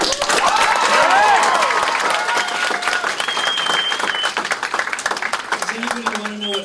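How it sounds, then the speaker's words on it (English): Live audience clapping and cheering for the final performer at an evening show, a dense, steady wave of applause that swells early and carries on loudly throughout, with a few voices calling out over it. "I think he needs an extra special round of applause as he begins"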